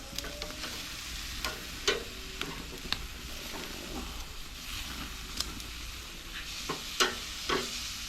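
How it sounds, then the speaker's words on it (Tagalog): Chicken for lechon manok grilling over an open fire gives a steady crackling sizzle throughout, with several sharper pops and crackles standing out at intervals and no talk. "may maapoy na yung inihaw natin"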